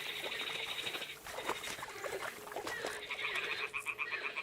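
Toads croaking in the medieval game Kingdom Come: Deliverance 2, a faint steady chorus of rapid ribbiting trills under a soft ambient wash, with one clearer pulsing croak toward the end.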